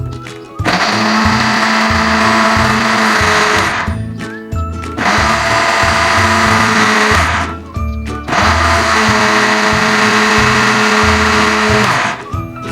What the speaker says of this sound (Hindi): अब इसको हमने अच्छी तरह से ब्लेंड कर लेना है।